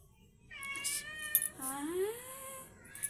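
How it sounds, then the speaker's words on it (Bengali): A cat meows twice, the second call long and sliding, close by with little else around, in a home kitchen. "আরও একটু ম্যাও ম্যাও করুক, ম্যাও ম্যাও করুক"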